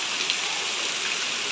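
Monsoon rain pours steadily onto the courtyard of an old house, a dense, even hiss of drops striking the ground close by, unbroken and with no talk.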